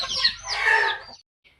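A hen clucks and squawks close up in one rising burst of about a second, then stops, with only a faint chirp after.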